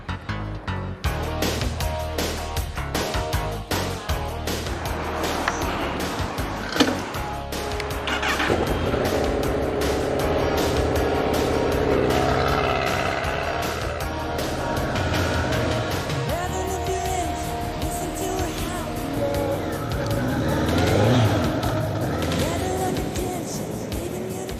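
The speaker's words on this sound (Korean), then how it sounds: "심장 박동처럼 울리는 엔진 소리를 들으며 달리다 보니" American-style cruiser motorcycle engine on the move, a steady throbbing rumble with rushing wind and road noise, loud and continuous for the whole stretch.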